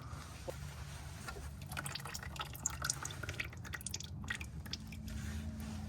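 Clutch fluid drips steadily from the bleeder while a G35's clutch hydraulics are bled during a lightweight flywheel and clutch kit install, small wet ticks over a low hum of garage noise.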